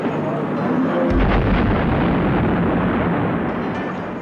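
A cannon shot fired at the facade of the Palace of Justice during a hostage siege, a sudden heavy boom that swells into a long, roaring, noisy rumble lasting several seconds.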